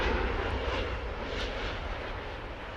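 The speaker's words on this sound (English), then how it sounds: "It's an Airbus A320," An Airbus A320 airliner flies overhead with a broad, steady engine roar, loud and unbroken for a few seconds.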